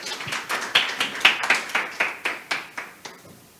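Clapping for three speakers at an obesity society research meeting comes as a steady, evenly spaced run of about a dozen claps that fade slightly toward the end.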